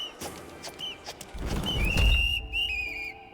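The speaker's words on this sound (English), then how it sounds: "I just couldn't stand the sound of that whistling." In the video game Have A Nice Death, a character blows a shrill whistle in short chirps and then a longer rising blast, mixed with game sound effects and a low rumble.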